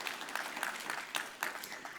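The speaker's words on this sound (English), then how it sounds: "So give them a round of applause." Audience applause at a food summit in Atlanta, a steady patter of many hands clapping at moderate distance, with sharper bursts of individual claps standing out through the wash.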